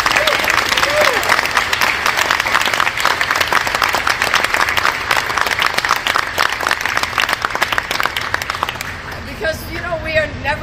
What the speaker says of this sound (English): Should we give them a big round of applause for the federal government?